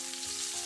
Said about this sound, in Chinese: 锅留底油，下入蒜片、小米椒。 开中火，给它煸炒出香味。